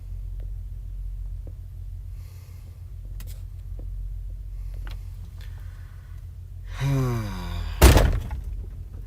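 A pickup truck's frame pops back into place as its air suspension bags deflate, giving a sudden loud bang near the end after a creaking, groaning shift, set against a steady low idle hum.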